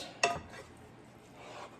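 A single clink of a utensil against a pan, followed by soft scraping and faint stirring sounds as rice is broken up in butter, quiet and close.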